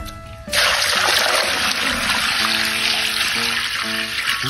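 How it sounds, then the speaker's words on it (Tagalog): Water is poured into a pot holding fresh lemongrass and meat. It starts as a sudden loud, steady splashing stream after a brief pause and continues close up with no voices over it. "Tapos busan na lang natin ng tubig."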